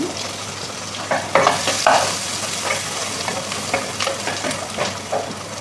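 Capsicum and garlic fry in a pan while being stirred, a steady crackling sizzle broken by repeated scraping stirs, close and fairly loud, with no talking.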